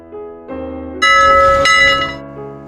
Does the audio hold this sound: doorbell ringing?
yes